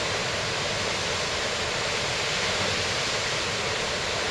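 Dense, roaring wash of Mae Surin waterfall in Mae Hong Son, Thailand, falling onto rocks, steady and unbroken, filling the whole scene with broad white-noise rush and no talking.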